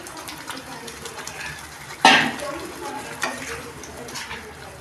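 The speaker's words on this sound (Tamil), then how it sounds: "இப்போ கறியை போட்டு வதக்கிக்கணும்" Chicken pieces sauté in a pan of cooked masala for a Maharashtra dhaba-style chicken gravy, giving a continuous close sizzle with scraping stirs, one loud clatter and a few lighter knocks.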